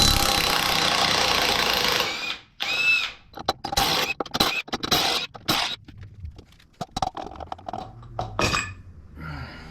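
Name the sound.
tools removing pulley from Harley Dyna rear wheel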